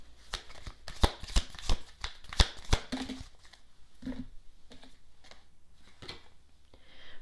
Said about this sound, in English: I want to go ahead and pull one love oracle card